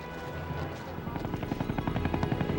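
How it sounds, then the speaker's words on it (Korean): A helicopter's rotor beats in a fast, steady rhythm that grows slightly louder, set against a low rumbling background. "그래서 주목하게 된 것이 헬리콥터다"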